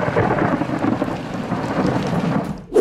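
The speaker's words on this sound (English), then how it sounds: "the person taking the footage heard thunderous lightning" Thunder from a lightning storm outdoors, a heavy, sustained rumble mixed with steady rain, loud and enveloping, ending in a sharp closer crack.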